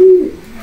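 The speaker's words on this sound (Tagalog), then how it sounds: "Yung ibon ni Romel Herme, yung kanyang nag-champion sa Matnog" A racing pigeon, a champion bird from Matnog, gives a short, close, low coo that fades quickly.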